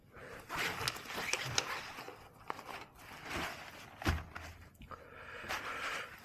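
Pockets on a Dynafit DNA 8 running vest being zipped, a series of short, crisp rasping zips with small rustles and handling noises between them, close up and fairly quiet, with no talking.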